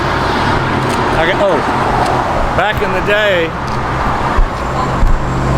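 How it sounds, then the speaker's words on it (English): Road traffic passes by steadily in Liberty, Texas, a loud continuous roar of cars with a brief rise near the end, while someone talks over it. "Wait for this traffic to go."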